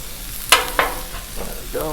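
Chunks of onion sizzle on a Blackstone griddle as a spatula mixes them, two crisp scraping strokes standing out early over the continuous frying hiss, with softer clatter near the end.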